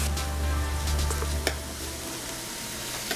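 Garlic cloves sizzle and fry steadily in a pan of oil as they roast for garlic oil, a close, even crackling hiss that runs throughout with a couple of faint knocks and no talking.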